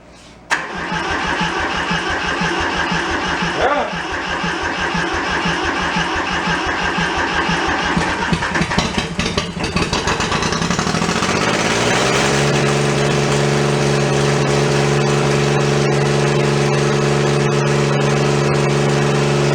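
A thrashed Kubota diesel tractor engine cranks for several seconds, then catches and settles into a loud, steady, close idle.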